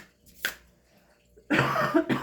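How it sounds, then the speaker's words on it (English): A short cough, then a louder burst of two or three harsh coughs close to the microphone in a quiet room. "That sandalwood is making me cough now because it keeps blowing this way."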